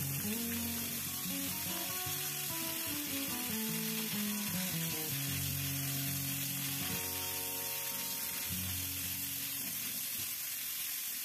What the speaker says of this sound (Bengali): ওই তেলেই আমি ফুলকপিগুলো ভেজে নেব।